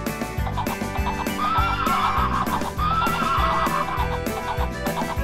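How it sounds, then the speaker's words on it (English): A cartoon horse neighs and whinnies over bouncy, loud children's game music, with a brief clip-clop feel in the steady rhythmic backing. "This is horse."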